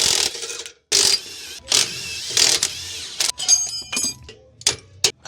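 A ratchet working a U-bolt loose on an enclosed trailer's axle during suspension replacement, with loud close bursts of rapid mechanical clicking and whirring broken by short gaps, and no talk.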